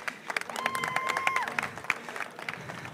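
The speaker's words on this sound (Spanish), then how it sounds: "Un aplauso, vamos, un aplauso para animarlo el hombre" Audience applause breaks out to cheer on a robot builder at a recycled-materials robot event, dense clapping with scattered whistles and voices over a steady crowd bed.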